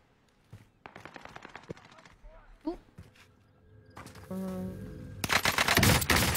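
Video game gunfire from a sniper: scattered loud shots and rapid bursts that grow denser and louder toward the end, mixed with footsteps and thuds, and players talking over it.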